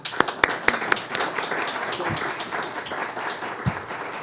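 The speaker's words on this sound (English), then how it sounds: "if you would give a great round of applause to all of our panelists." A panel discussion audience applauding, steady dense clapping throughout, with a few sharp, louder claps close by at the start.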